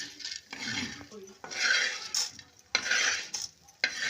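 Dal scraped and scooped from a pan over a wood-fired chulha, with repeated bursts of utensil scraping and clinking against metal, a faint sizzle between strokes, close and moderately loud.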